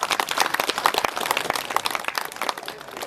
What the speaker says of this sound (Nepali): अनि हामी ताली पनि बजाउँछौँ।